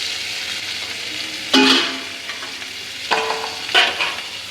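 Paneer sautéed over a high gas flame, a steady close sizzle with two louder bursts of spatula stirring and scraping in the pan, no voices.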